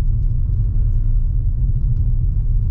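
Steady car engine rumble in fourth gear, a continuous low droning hum from inside the moving car, loud and even throughout with no talking.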